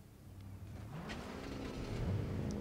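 A video game truck's engine rumbles low and steady as it drives off, gradually building in loudness with a slight rev toward the end, with no talk over it.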